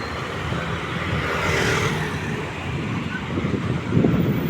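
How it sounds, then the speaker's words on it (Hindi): Steady roar of highway traffic from many passing vehicles, cars and trucks, a continuous broadband wash with mild wind buffeting on the microphone and a slight swell near the end. "हाईवे रे से हाईवे रे बहुत गाड़ी गुड़ा जा तो नॉइज बहुत आउगा"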